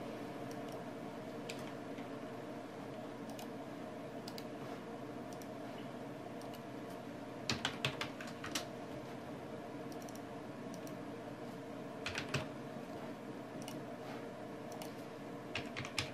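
Someone types a password on a computer keyboard: soft scattered key clicks, with a few brief bursts of quicker taps, under a steady background hum.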